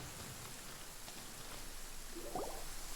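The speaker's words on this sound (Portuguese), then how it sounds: "Eita, tá chovendo mesmo." Rain falling during a storm in the video game Genshin Impact, a steady hiss of rain that is moderately loud and continuous, with a brief brighter splash or chime near the end.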